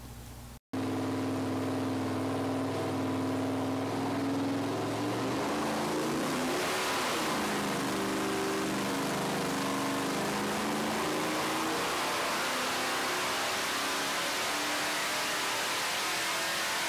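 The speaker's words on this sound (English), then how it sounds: "Now let's find out what happens when we run boost. We've got a TorqStorm supercharger coming right up." A GM 305 LB9 tuned-port 5-liter V8 with a TorqStorm supercharger idles low and steady, then revs up hard into a loud rising roar that holds at high speed, close and alone.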